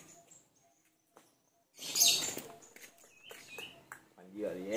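A night bird calls in a short series of chirps at dusk in rural Jambi, with people talking nearby and partly covering it.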